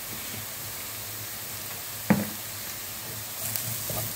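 Herbs with turmeric and coriander sizzle steadily in a pan, a constant close frying hiss marked by one sharp clack of the utensil and quieter stirring scrapes, with no one talking.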